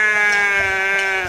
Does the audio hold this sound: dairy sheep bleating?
yes